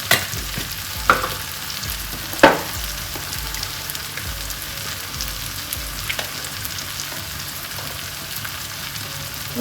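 Masala of coriander powder being stirred into a simmering urad dal and green gram curry, soft scraping stir strokes with a few sharper knocks over a low steady sizzle.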